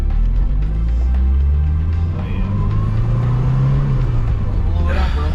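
A Ford Mustang SVO engine rumbles loudly and revs up through the gears, its pitch rising and dropping with each shift, while people talk over it.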